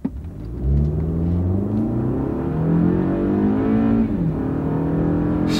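A new Toyota Camry with a multi-speed transmission accelerating from a stop with traction control off: a smooth, rising engine hum that drops briefly at a gear change and climbs again, heard from inside the car and clear.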